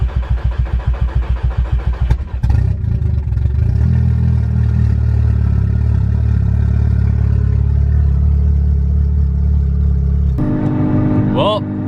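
A Mk6 Golf R engine with reinstalled stock cams cranks with a rapid rhythmic chug, catches and settles into a steady, loud idle with a rough hum, close by.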